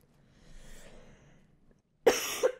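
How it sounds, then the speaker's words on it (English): A person coughs hard, a sudden harsh burst followed by a second shorter hack close to the mic, after a stretch of faint rustling and near silence. "I've coughed so much I've given myself a headache"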